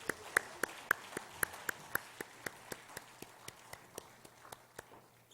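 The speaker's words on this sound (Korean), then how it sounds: "여러분 큰 박수로 축복하겠습니다" A church congregation at a teachers' dedication service claps in unison, sharp evenly spaced claps that start strong and gradually fade toward the end.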